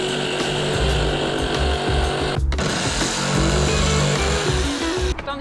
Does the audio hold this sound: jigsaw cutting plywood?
yes